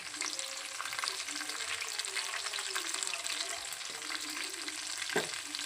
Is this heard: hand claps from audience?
no